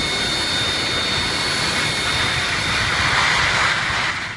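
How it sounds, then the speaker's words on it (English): Jet airliner noise, a Boeing 737-700 coming in for a hard landing that collapses its gear, heard as a loud, steady broadband roar with a thin high whine that holds for the whole stretch, no voices. "A Boeing 737-700 lands too hard, causing the gear to collapse."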